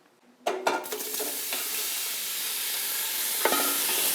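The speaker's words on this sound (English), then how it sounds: "I wanna just fry this up for about 4 to 5 minutes just to get a nice golden color" Chicken sausage dropped into hot avocado oil in a pan bursts into a loud sizzle that settles into a steady, close frying hiss, with a brief utensil clatter near the end.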